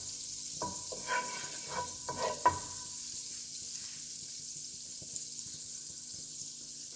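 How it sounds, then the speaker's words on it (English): Two tablespoons of unsalted butter melt over moderate heat in a pan, giving a soft, steady sizzle with a few faint clinks and stirring touches early on. "melt 2 tablespoons of unsalted butter"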